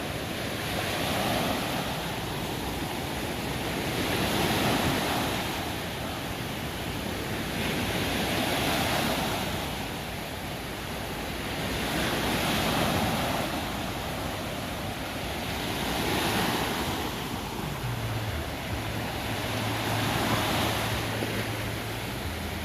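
Sea waves at a beach in the morning, a steady rushing surf that swells and breaks in slow rolling surges every few seconds, with wind buffeting the microphone and no voices.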